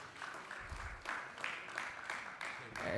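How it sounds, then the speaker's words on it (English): Applause from a convention breakfast audience rolls on as a soft continuous patter, with speech heard over it and a swell toward the end. "Let's give Dr. Ussery another round of applause for his genius."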